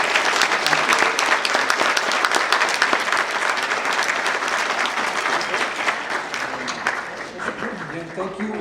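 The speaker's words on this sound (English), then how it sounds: "Let's have a nice applause for our guest program." A studio audience gives a guest a round of applause, loud sustained clapping that tapers slightly toward the end while a voice speaks beneath it in the closing seconds.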